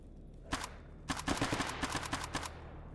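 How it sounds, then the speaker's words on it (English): Suppressed gunshots in STALKER, fired while hunting boars: a single soft, muffled pop, then a quick string of faint, dull shots in a fairly even rhythm. "the suppressed gunshot is actually a very, very weak sound"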